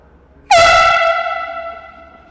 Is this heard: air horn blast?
yes